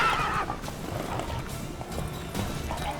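A horse whinnies near the start in the video game The Witcher 3, followed by quieter hoof clops and snorting over a faint background hum.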